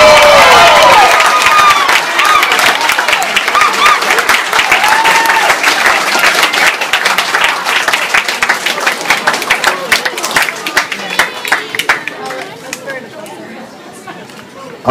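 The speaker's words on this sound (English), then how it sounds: "How about another big round of applause for this year's King and Queen?" Loud crowd applause and cheering at a junior county fair crowning of the king and queen, dense clapping with whoops and voices that gradually tapers off toward the end.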